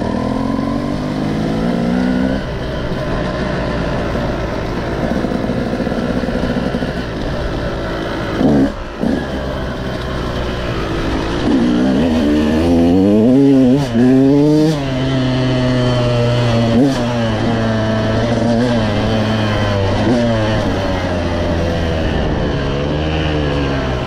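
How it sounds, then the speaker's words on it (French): A KTM 200 EXC two-stroke enduro motorcycle ridden along a dirt path near a dam, its engine buzzing loudly and close, revving up and down through gear changes with rising and falling pitch for the whole stretch. "c'est une moto enduro qui est faite pour rouler sur le barrage"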